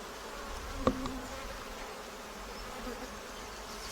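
Honey bees hum steadily at an opened beehive, a soft continuous buzz with one brief clunk near the start.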